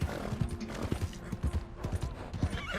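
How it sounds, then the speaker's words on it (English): A horse in the Red Dead Redemption 2 video game slows its pace, with close clip-clop hoofbeats falling into an uneven walking rhythm over a low background. "Nosso cavalo tá meio cansado, eu vou dar uma segurada nele aqui assim"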